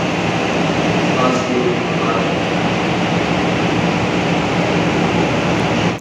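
KA Uriban passenger train arriving at Klaten station, a loud continuous rumbling rush of rolling carriages, close and steady, with a voice talking over it.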